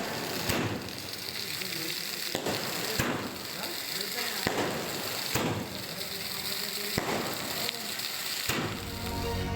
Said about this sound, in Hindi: तभी तो आतिशबाजी भी हो रही है।